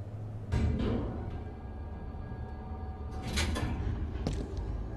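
In Final Fantasy VII Remake, an elevator door in the Shinra Building slides shut with a soft mechanical whoosh and a muted thud over a low hum of background game ambience.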